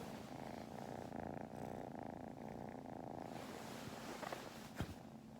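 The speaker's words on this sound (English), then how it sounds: "Can you hear her purring?" A cat purrs close up in a soft, rhythmic rumble that rises and falls with each breath, quiet and steady, ending with a small bump.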